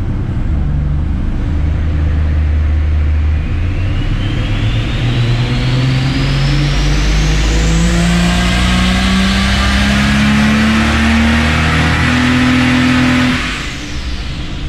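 Ford Barra turbo six on a hub dyno revs hard and loud, its engine note climbing steadily through the rev range with turbo whistle, then easing off near the end.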